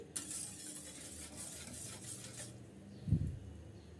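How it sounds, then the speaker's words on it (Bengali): A spoon quietly scrapes and swirls through milk in a pot for eggless coffee pudding, with a soft clunk against the pot near the end and no voices. "আমি নেড়ে চেড়ে মিক্স করে নিচ্ছি আর একটা বলক তুলে নিচ্ছি।"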